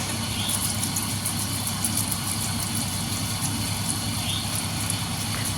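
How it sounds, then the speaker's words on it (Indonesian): A polishing machine grinding kalimaya opal stone hums steadily with a constant motor drone and a high whining buzz, loud and unbroken throughout, with no voices. "Kita pergunakan mesin poles."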